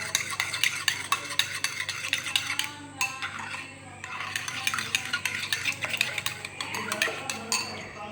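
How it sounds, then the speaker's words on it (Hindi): A spoon repeatedly scrapes and clinks around a bowl as cumin, black pepper and salt are mixed into a cucumber raita, in fast, rhythmic stirring strokes with a brief pause midway and soft music underneath. "ये हम डालेंगे इसमें, और इसे करेंगे हम अच्छे से मिक्स।"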